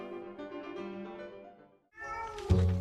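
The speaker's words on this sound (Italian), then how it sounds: "Il gatto." A cat meows in drawn-out, tonal cries close by, one long call followed after a short pause by a second, louder call ending with a dull thump.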